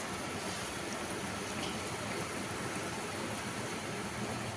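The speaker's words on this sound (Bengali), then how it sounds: "ওই ছাদে দেখুন জল পড়ছে কেমন করে" Rainwater streams off a roof in a constant, even rush during heavy rain, a soft broadband hiss with no pauses and no voices.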